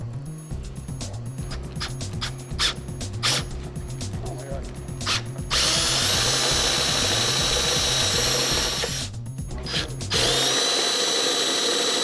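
A power drill whirs in steady bursts while drilling holes in Jeep fender flares, a mechanical rattle underneath, then a long continuous high-pitched drilling run that stops and starts again.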